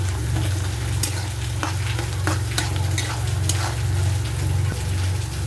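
Spoon stirring panch phoron spices and salt in a frying pan, oil sizzling steadily underneath with scattered scraping clicks and taps, close and continuous.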